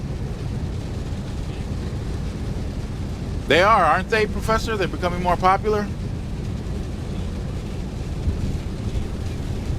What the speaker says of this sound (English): keeping the truck running